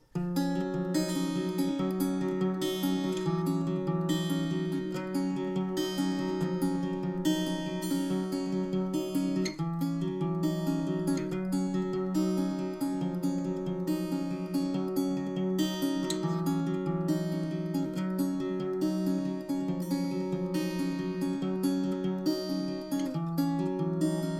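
A steady, full-band strummed electric guitar pattern repeats continuously at an even volume, with dense chords and no voices.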